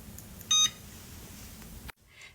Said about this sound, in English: Then you are going to turn on stove.